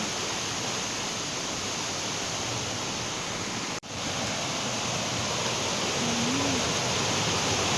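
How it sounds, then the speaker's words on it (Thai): Fast-flowing waterfall in Trat province, Thailand, roaring as a steady, loud, broadband rush of water that fills the whole stretch, with only a brief dropout midway. "น้ำตกนะคะ น้ำตกโอ้น้ำเชี่ยวมากเลยอะ่ะ"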